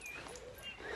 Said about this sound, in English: every day I take my beautiful dog, literally my pride and joy